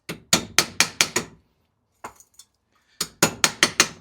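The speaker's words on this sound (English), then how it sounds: "I'm just going to put it in a vise and see if I can smack it into shape" Sharp metallic hammer blows strike a metal part clamped in a vise, coming in a quick run of five, a few lighter taps after a pause, then another rapid burst of five.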